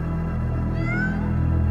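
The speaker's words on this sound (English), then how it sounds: "So Joe ends up in the body of a therapy cat" A cat from the animated film Soul gives a single brief, high, rising meow over a steady low hum of background score, moderately faint and alone without talk.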